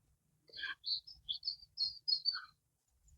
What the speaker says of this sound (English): I've even got birds singing